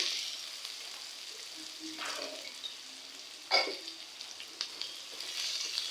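Onions and green chillies fry in a pan for a village-style chicken curry, giving a soft, steady sizzle broken by a couple of brief stirring scrapes. No one speaks.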